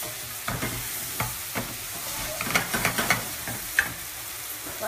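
Cauliflower and potato with turmeric cook in a pan, a close steady sizzle punctuated by repeated scraping stirs and occasional clinks against the pan.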